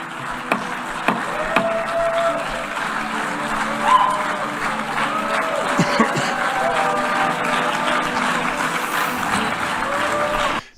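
Members in a parliament hall clap loudly and raggedly, with sharp individual claps and scattered shouts and chatter over a dense crowd murmur.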